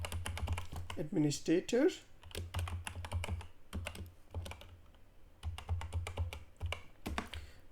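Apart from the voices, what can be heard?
typing login username on computer keyboard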